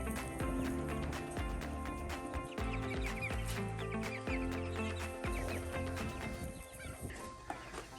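Chickens cluck and murmur steadily from close by as they are moved into chicken tractors on a farm, over a dense, busy background of barnyard noise, with no pauses.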